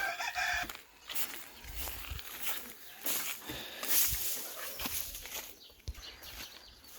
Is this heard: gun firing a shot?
no